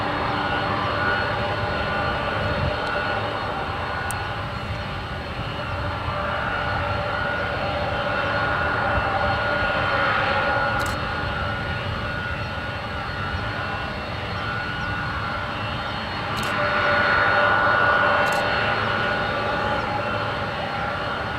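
Boeing 737 jet on approach at San Francisco International Airport, a steady loud engine roar with a whining tone that holds throughout and swells near the end.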